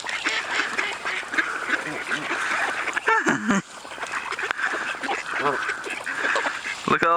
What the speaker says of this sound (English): There's a lot of geese and ducks.